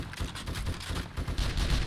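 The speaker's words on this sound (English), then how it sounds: "I hear gunshots." Rapid gunfire from the survival zombie game 7 Days to Die, a dense run of sharp shots and bursts close by, loud and continuous with no talk over it.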